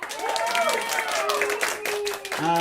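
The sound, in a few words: audience applause and clapping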